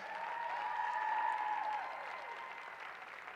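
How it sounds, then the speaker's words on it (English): Arena crowd at McKale Center applauding Arizona gymnastics seniors, a broad distant wash of clapping with a sustained whistle or cheer tone, swelling then gradually easing. "Let's have one big round of applause for all your Arizona seniors."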